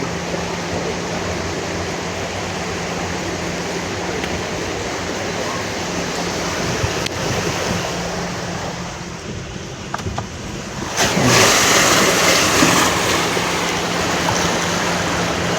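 A car pushes through a rain-flooded street in Dhaka, a steady broad rush of churned water continuing throughout, rising into a louder splashing surge near the end.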